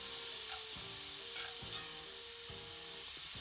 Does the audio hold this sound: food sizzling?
yes